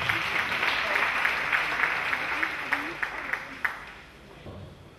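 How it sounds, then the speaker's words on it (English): A church congregation claps together during a deliverance service, steady rhythmic clapping at moderate distance with voices mixed in throughout. "Clap for Jesus Christ."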